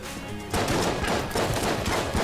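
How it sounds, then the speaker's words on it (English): Rapid gunfire from the pixel-art shooter Enter the Gungeon rattles in a dense, continuous burst after a brief quieter lead-in, steady and moderately loud with no talk over it. "I'm shooting the stuff on the side."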